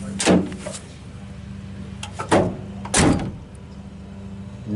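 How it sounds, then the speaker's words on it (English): A pickup truck's tailgate and door worked by hand: three solid thumps and latching clunks spread over a few seconds, close and fairly loud over a low idle hum. "See how this door shuts."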